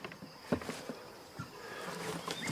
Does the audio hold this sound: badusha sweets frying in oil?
no